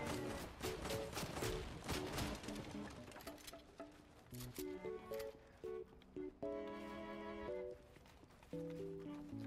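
Shotgun fire in Fortnite comes in rapid bursts of sharp blasts, some close and loud and others quicker, broken by short gaps. Tonal game effects sound between the shots.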